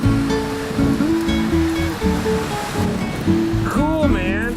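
Rushing waterfall on Upper Crab Creek during a hike, a steady broadband roar of fast-running water throughout, with people talking over it and a brief whistle-like tone near the end.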